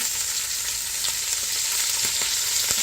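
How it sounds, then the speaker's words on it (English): Bacon sautéing in a pan, getting crisp before cabbage goes in, producing a loud, dense, continuous sizzle and crackle with a few soft stirring taps close by. "I'm just sauteing the bacon a little bit"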